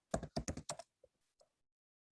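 Keys on a computer keyboard are tapped in a quick burst of about six close, crisp clicks, followed by a couple of fainter isolated taps amid quiet.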